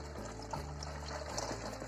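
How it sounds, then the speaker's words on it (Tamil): Hot herbal water made by boiling leaves pours and trickles steadily through a cloth strainer, a continuous close splashing flow with no voices. "இந்த தண்ணியை நம்ம இந்த மாதிரி வடிகட்டிக்கணுங்க"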